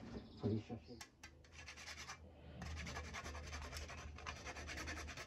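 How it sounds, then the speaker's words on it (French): Whole nutmeg is grated by hand over a flammekueche cream topping, a close, steady rasping scrape in repeated strokes, quiet overall with no talk. "Tu nous rajoutes un petit peu de noix de muscade."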